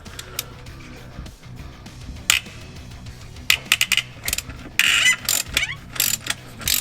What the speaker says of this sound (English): I'm going to do my best torque wrench impression and try and get it out without breaking it